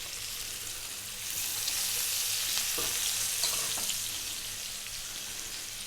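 One sliced onion and a tablespoon of chopped garlic fry in chili oil, a soft even sizzle that swells briefly louder with a couple of faint stirs, no voices.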